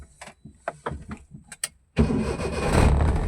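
A 26-model Maruti 800 with air conditioning cranks and fires in one go, then settles into a steady, loud idle close by. Before the start, a few brief clicks and knocks come from inside the car.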